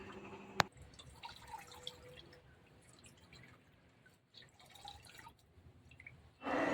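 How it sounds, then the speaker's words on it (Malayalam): Liquid squeezed and strained through cloth drips into a vessel, with scattered soft drips and small splashes in a quiet room, a sharp clack near the start and a louder rush of pouring at the end. "ഇനി ഇത് നന്നായിട്ടങ്ങ് പിഴിഞ്ഞെടുക്കാം."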